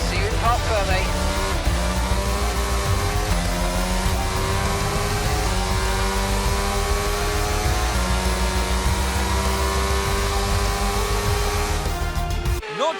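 F1 22 race cars in a video game, Brazilian Grand Prix, engines droning continuously at steady high revs for the whole stretch, with a commentator's voice over the top, then cutting off abruptly at the end.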